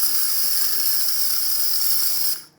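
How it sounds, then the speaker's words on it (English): The steam wand of a Gaggia Anima Prestige espresso machine releases a steady, strong high-pitched hiss of steam that stops abruptly near the end. "Good steam coming out of the one. Excellent pressure."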